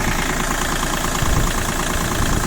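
A Kubota ZL1 205 tractor engine idling steadily and loudly up close, with a rough, rhythmic diesel knock and no talking.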